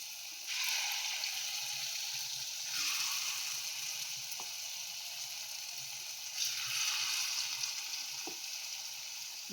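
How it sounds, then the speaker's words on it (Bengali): Lentil paste fritters fry in hot oil in a wok on a gas stove, a bright steady sizzle that swells twice as batter drops in, with a few soft clinks of a spoon. "আমি ডাল বাটাটা বড়ার আকারে ভেজে নেব"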